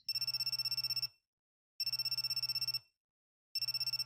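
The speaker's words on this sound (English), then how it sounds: "First thing the next morning, my cell phone suddenly rang." A cell phone rings in the visual novel G-Senjou no Maou, sounding three bursts of rapid electronic trilling, each about a second long and separated by short silences, with no voices.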